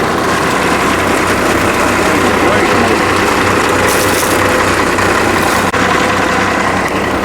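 A 1976 truck engine with a newly fitted exhaust idles steadily and close by, a continuous low rumble with an even pulse and no break from start to finish.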